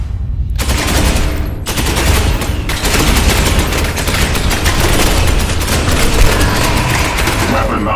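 Squads exchange heavy gunfire in Space Hulk Ascension, a loud continuous barrage of rapid automatic shots and booms that barely pauses, with game voices mixed into the din.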